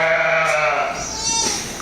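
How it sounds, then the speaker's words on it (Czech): Sheep bleat loudly and continuously from close by inside an indoor sheep room, with overlapping cries of varying pitch. "Oni tomu říkají sheep rooms, jo, tady tomu, kde jsou ubytované ty ovce."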